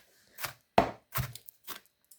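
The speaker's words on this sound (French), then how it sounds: "on a bien émincé les oignons" Onions sliced with a knife on a board, about five separate thuddy chops at uneven intervals, close and clear with silence between them.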